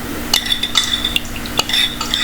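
A utensil scrapes and clinks against a bowl in irregular strokes, a close, steady mixing sound with no talking, as thin batter for frying enoki mushrooms is mixed.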